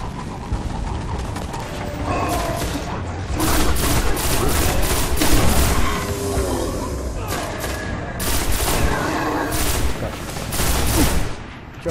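Gunfire striking a tank in the video game Destiny, rapid clattering bursts of shots and metallic impacts recurring in waves over twelve seconds, dense and mechanical, with battle noise in between.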